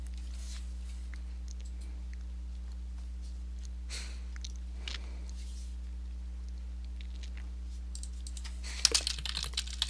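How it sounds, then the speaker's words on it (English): Typing on a SteelSeries Apex Pro TKL keyboard, soft scattered key clicks over a steady low electrical hum, with a quick flurry of sharper keystrokes near the end. "Typing."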